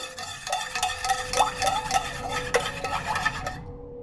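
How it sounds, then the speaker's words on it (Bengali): Milk and egg being stirred together in a bowl, rapid rhythmic clinking and scraping of a utensil against the side, close and fairly loud for a few seconds before stopping. "দুধের সাথে কিন্তু এটা ভালোভাবে মিশিয়ে নেব"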